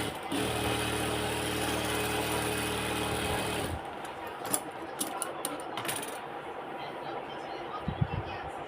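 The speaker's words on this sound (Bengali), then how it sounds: "ডাবল করে সেলাই দিচ্ছি" A tailor's sewing machine double-stitching a pocket onto ladies' pants runs with a steady mechanical whir for a few seconds, then stops, followed by quieter clicks and handling sounds.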